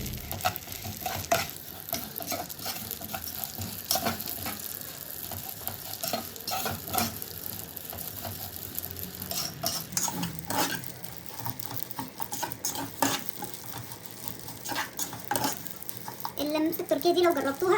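Vermicelli browning in oil in a pan for Turkish-style rice with vermicelli, loud continuous sizzling broken by repeated scraping and clattering strokes of a utensil stirring against the pan.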